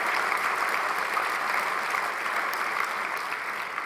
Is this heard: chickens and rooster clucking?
no